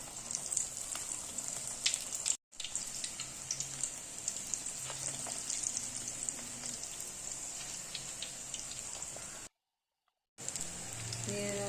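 Dill leaf bonda balls frying slowly in oil over a low flame, a close, steady crackling sizzle with fine popping bubbles, briefly cutting out twice.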